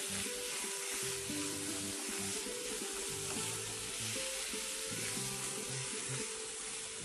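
Vegetables sizzling loudly in a hot pan while being stir-fried for American chop suey, a dense continuous hiss close up with faint scraping of stirring underneath, no talking.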